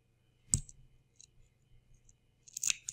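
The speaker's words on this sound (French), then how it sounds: "si j'ai besoin de cranter plus profondément, ben, je reviens avec mon coupe-fil." Small thread snips notch a fabric lining, two crisp close cuts with a faint snipping in between, sharp clicks in a quiet room.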